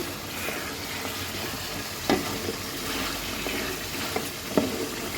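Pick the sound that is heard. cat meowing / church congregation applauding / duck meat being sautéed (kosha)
duck meat being sautéed (kosha)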